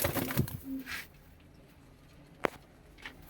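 A Panjabi Malwai pigeon gives soft, low coos close by, a few brief murmuring calls early on, followed by quiet with a single sharp tap or flutter.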